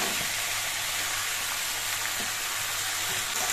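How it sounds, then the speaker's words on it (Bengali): Boiled banana stem tipped into a pan of frying potatoes and spices gives a constant, fairly loud sizzle and hiss, with faint stirring bumps underneath and no voices. "এবার এর মধ্যে আমি সেদ্ধ করা থোরগুলো দিয়ে দিচ্ছি।"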